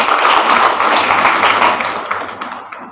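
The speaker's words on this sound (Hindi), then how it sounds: "जबरदस्त ताली।" A seminar audience at a Safe Shop business presentation claps together, a loud burst of applause that holds for a couple of seconds and then thins out into scattered claps.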